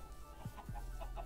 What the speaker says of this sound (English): And then here we got the domestic chickens.